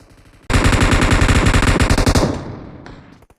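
Sustained automatic M4 rifle fire in a mobile battle-royale shooter, a loud rapid burst of many rounds lasting about two seconds before trailing off into faint echoes and game sounds.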